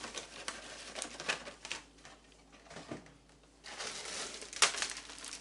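Stuffing tipped into a plastic freezer bag that already holds chicken, with soft crinkling of the plastic and patters of crumbs falling in short bursts. The sounds are close but quiet, with brief pauses between the rustles and no talking.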